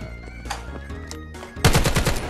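Rapid bursts of automatic gunfire from a SCAR rifle in the VR shooter Vail VR, a loud stuttering volley erupting in the last second after quieter game sounds and scattered distant shots.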